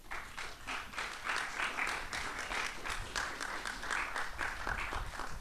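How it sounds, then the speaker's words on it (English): A crowd at a beach recycling competition awards ceremony gives a round of applause, a steady, moderately distant patter of many hands that holds evenly throughout. "I think we ought to give him a round of applause in absentia"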